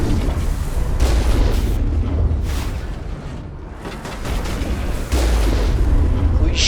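Gunfire and explosions from combat in the Mass Effect video game make a dense, continuous rumble of booming blasts and shots, loud throughout, dipping briefly in the middle before surging again.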